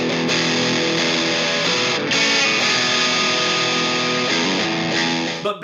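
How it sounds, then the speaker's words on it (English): Electric guitar driven through a Boss distortion pedal, with dense, loud, continuous distorted chords strummed steadily for several seconds, no voices. "let's take a look at that distortion pedal"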